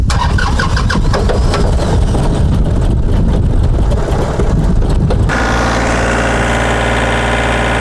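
A TYM tractor's diesel engine cranks and catches, chugging roughly, then settles into a steady loud idle with a low throbbing hum.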